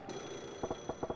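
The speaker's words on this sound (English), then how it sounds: "Is that a phone ringing? Looks like it's that payphone." A payphone ringing inside the video game Yakuza 0, heard as several short, fairly quiet ring bursts in a loose rhythm over a steady background hum, with no talking.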